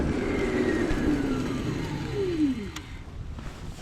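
A Kowoee E8 Pro electric scooter brakes hard from a run of about 20 km/h. Its motor whine slides steadily down in pitch over wind rush and fades near the end, with no talking.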